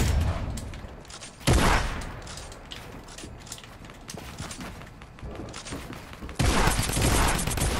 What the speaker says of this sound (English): We're getting shot down, I think.